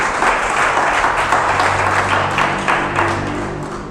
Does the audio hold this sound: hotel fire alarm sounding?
no